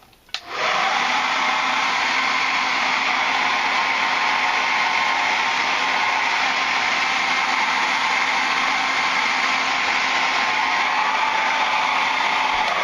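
A hair dryer blows hair dry in one steady, loud whoosh that switches on at the start and runs without pause to the end, with a faint whine held under the airflow.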